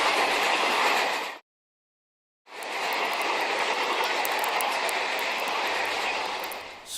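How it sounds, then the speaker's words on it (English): A locomotive gives off a dense, roaring rumble with rapid clattering. The roar cuts out for about a second of silence, then returns and runs steadily to the end. "scary locomotive"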